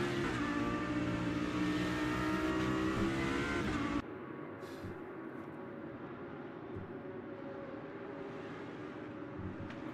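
Lamborghini Super Trofeo race car engines roar at Road Atlanta in the Automobilista 2 racing game, a loud sustained multi-car drone with shifting revs that drops abruptly to a lower, steadier engine hum about halfway through.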